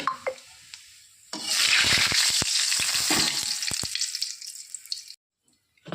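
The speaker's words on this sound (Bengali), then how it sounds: "ওই তেলেই ফোড়নে দিয়ে দেবো আমি গোটা গরম মশলা" Whole garam masala dropped into hot oil left over from frying silver carp, a sudden loud, dense sizzle that swells, then dies away after several seconds, with scattered taps before and after.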